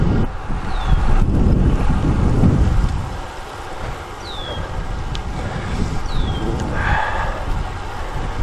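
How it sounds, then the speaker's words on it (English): Strong, steady wind buffeting a cyclist on a road toward the shoreline, a loud continuous rumble that eases briefly midway before building again, with faint birdsong high above. "Boy, that wind is something. Won't let up at all, at least in this direction."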